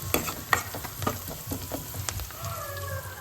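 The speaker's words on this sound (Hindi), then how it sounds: "मैं पहले छौंक लगाती हूँ।" Kadhi tempering sizzles in a hot pan, with faint crackling spits and a soft frying hiss close by, accompanied by light stirring clinks.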